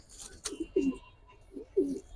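Giribaz pigeons, sold as a breeding pair, give close, soft coos in several short rounded bursts with brief pauses between them. No one speaks.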